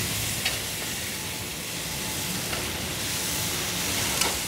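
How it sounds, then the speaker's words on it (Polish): Fish sizzles as it is quickly fried in a pan before the curry sauce is made, a steady broadband hiss with a few faint clicks and no talking. "Teraz szybkie smażenie."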